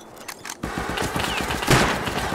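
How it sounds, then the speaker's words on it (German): Rapid bursts of gunfire from the online survival game Rust, a loud, dense fusillade of overlapping shots carrying on steadily through the moment, close and sharp with no voices over it. "Ja, ich schieß."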